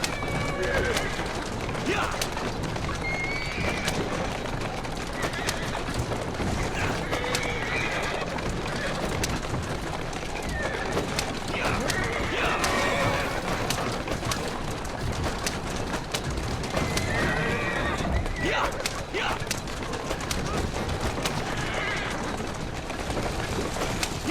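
Horse-drawn carriage in the Assassin's Creed Syndicate video game, with a continuous rattle of hooves and wheels, occasional horse whinnies and a steady street din throughout, close and fairly loud.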